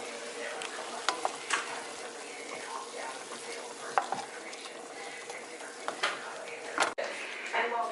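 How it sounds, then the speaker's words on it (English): Potatoes, asparagus and green beans with seasoning, garlic and pepper sizzle in a pan, with a steady close frying hiss broken by repeated clinks and scrapes of stirring, and a voice talking intermittently over it. "Cooking potatoes and asparagus and green beans with Johnny seasoning, garlic, and pepper."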